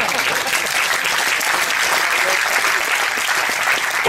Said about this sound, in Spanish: Bueno, denle un aplauso al Señor.